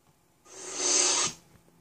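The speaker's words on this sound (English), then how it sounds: "Now I'm going to go with the power off sound." An Ultrasaber lightsaber powering off with a short electronic rushing whoosh that swells, holds for under a second and then cuts away, standing alone against quiet.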